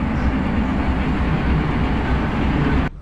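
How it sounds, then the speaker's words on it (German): Museum railway train at Bederkesa running into the fishing harbour, a steady loud rumble of rolling wagons and engine with no speech, cutting off abruptly near the end. "der Zug endet unmittelbar am Fischereihafen"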